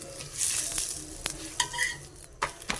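A chapati cooks in a little oil on a pan over high flame, sizzling briefly up close as it is pressed and turned, with a few scraping strokes.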